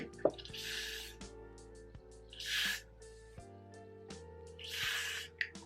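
Spray applied during a wig install: three distinct hissing bursts from a spray can, close and fairly quiet, separated by pauses with light clicks and background music.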